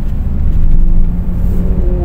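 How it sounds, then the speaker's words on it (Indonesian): A Nissan X-Trail T31 with a 2500 cc engine accelerates under throttle, heard from inside the cabin as a loud, dense low-frequency engine roar that swells briefly and holds steady. "nah kita sekarang pedot gas"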